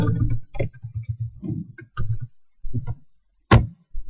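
Code being typed on a computer keyboard during a programming session, irregular bursts of close key clicks with short pauses and a sharp final keystroke.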